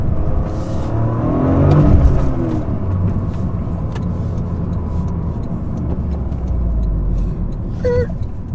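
A Toyota GR Corolla pulls hard on a road near a dealership, its engine rising as it accelerates in one steady, loud, close surge, with no talking.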